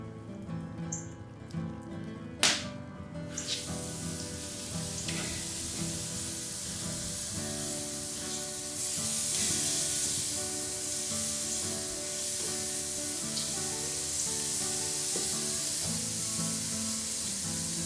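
Pork chops in an Asian marinade grill over an open flame, giving off a steady, soft sizzle and hiss that run throughout. A few sharper pops and crackles from flare-ups rise briefly above it.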